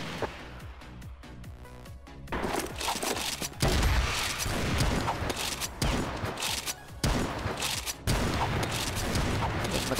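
Rapid gunfire bursts in the online shooter CrossFire, a quieter stretch of clicks giving way to loud, continuous volleys and booming shots that repeat in clusters with short gaps.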